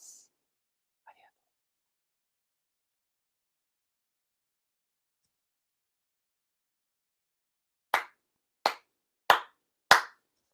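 Four sharp ritual hand claps at a Tenchi Kane no Kami shrine ceremony, evenly spaced and close, in an otherwise silent room after a faint early sound.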